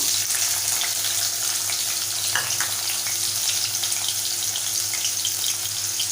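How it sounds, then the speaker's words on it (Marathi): Finely chopped onion sizzling in a hot tempering of bloomed cumin and mustard seeds, a loud, dense, even hiss that runs steadily throughout with no voices. "आता चिरलेला बारीक कांदा घालूया"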